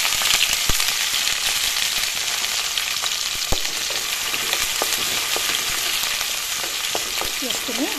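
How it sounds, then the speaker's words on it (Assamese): Onions sizzle and crackle steadily in hot oil in a wok, a dense continuous frying hiss with occasional sharp pops and a faint clink of utensils near the end, no talking. "তেলখিনি গৰম হৈছে এয়া পিয়াজখিনি দি দিছো"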